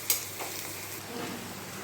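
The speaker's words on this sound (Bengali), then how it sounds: "এবারে এগুলোকে, পেঁয়াজ আর লঙ্কাটা একটু ভেজে নেব অল্প।" Chopped onion and green chili frying in a small amount of oil, a soft steady sizzle with a brief stir or utensil tap near the start, close and quiet.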